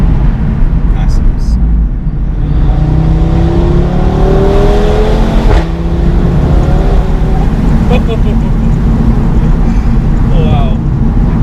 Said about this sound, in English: Yeah, it just picks up and it goes. And it's a turbocharged engine